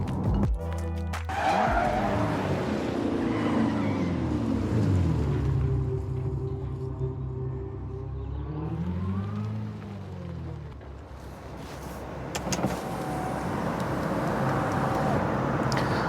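Audi e-tron GT electric car driving, its rising and falling motor whine and tire roar sweeping steadily past at moderate level, with a brief sharper burst near the end and no speech.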